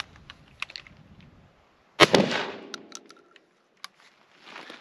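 A shotgun firing buckshot through a modified choke: one sharp, loud report that trails into a fading echo, with a few light clicks and handling noises around it.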